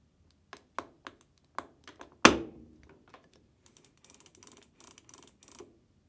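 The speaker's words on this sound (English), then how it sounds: "push it until it snaps back in place." A plastic control knob on a Samsung washing machine is pushed onto its shaft, giving a few quiet clicks, one sharp snap as it seats, then a run of faint rapid ticking, close and alone in a quiet room.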